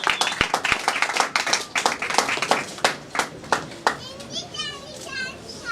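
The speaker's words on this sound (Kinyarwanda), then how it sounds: "turashobora kumukomera amashyi menshi cyane" An outdoor crowd at a film launch event claps in a dense, rapid burst that thins into scattered claps, with children's voices and chatter mixed in and continuing after the clapping fades.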